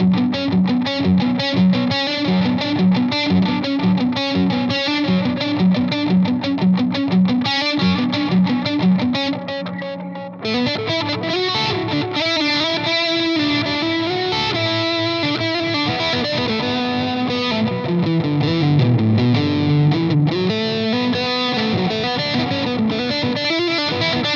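A distorted electric guitar plays through a small tube amp with hall reverb and stacked 335 and 240 delays, sustained chords and riffs ringing out loud and continuous with long echoing tails, no voices.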